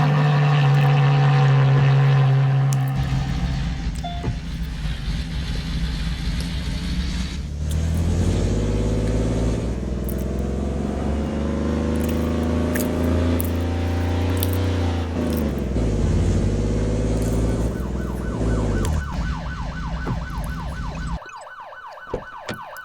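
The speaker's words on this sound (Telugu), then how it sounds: "సరే రివర్స్ గేర్ పోదాం." Engine of a car in a 3D driving video game, shifted into reverse, droning loud and steady with rising and falling pitch and a continuous game siren-like tone layered over it, cutting off near the end.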